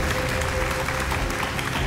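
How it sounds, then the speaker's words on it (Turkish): Audience applause at a Qur'an recitation competition, dense and steady from start to finish, filling the short stretch at an even, sustained level. "Bir kez daha alkışlıyoruz kendilerini."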